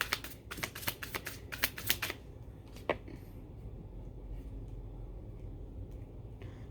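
Tarot cards are shuffled in a quick run of crisp riffling slaps for about two seconds, then a single snap and a quiet steady background hiss.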